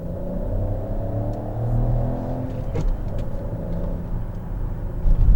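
A 2019 Peugeot 5008 SUV engine in sport mode and second gear gives a steady, close, low rumble that swells slightly while driving, with no talking.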